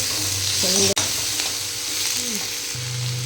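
Chopped tomato frying in oil for a mushroom masala, a loud continuous close sizzle with a brief stirring clatter, steady throughout.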